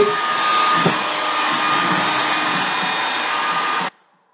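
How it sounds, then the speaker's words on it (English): A loud, steady whoosh of a hair dryer running close by for several seconds, then abruptly switched off into silence. "if you heard that was a blow dryer"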